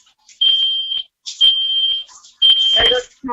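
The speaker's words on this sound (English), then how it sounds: "There goes the smoke alarm." A kitchen smoke alarm shrills in three long, loud beeping bursts while chicken is cooking in a pan, and a voice speaks briefly at the end.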